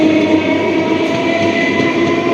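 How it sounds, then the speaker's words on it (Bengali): Burdwan local train pulling out of Pandua station, a steady loud rumble of wheels and carriages rolling along the rails with a continuous metallic drone, no voices. "গাড়ি ছেড়ে যাচ্ছে, তার পরবর্তী স্টপেজ সিমলাগড়।"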